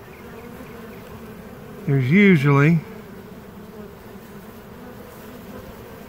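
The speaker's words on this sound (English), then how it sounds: "Got a little ball of bees right here." Honey bees buzzing around a small ball of bees on the ground, a steady soft hum with one louder, close buzz passing by for about a second while someone speaks briefly.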